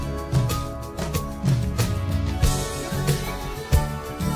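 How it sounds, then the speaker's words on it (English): Instrumental track playing back from a Pro Tools session, steady music with a rhythmic beat of regular thumps and sustained tones, heard clearly with no voices. "I've got the instrumental right here."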